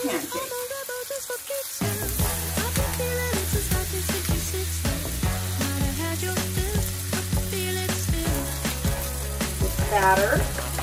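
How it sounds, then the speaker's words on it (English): Okonomiyaki batter of cabbage and vegetables goes into two hot pans and sizzles steadily. The frying hiss sits under prominent background music for most of the clip. "I'm going to put it in these two pans."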